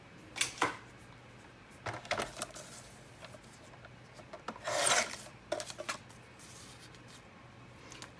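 A paper journaling card is trimmed with scratchy, rasping cuts in short irregular bursts, close and quiet, with one longer rough stroke partway through.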